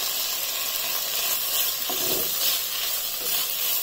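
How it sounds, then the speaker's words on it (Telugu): Crushed corn sizzles in a pan for corn soup, a constant bright frying hiss with a brief stirring rustle midway, near and alone. "కార్న్ వేస్తాం."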